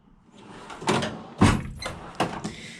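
Metal tool chest drawer in a mobile mechanic's converted UPS truck sliding open, a quick series of rolling clatters and a solid thump up close.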